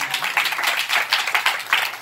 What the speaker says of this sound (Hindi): ताली बजाओ ना यीशु